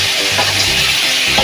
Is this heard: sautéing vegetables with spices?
yes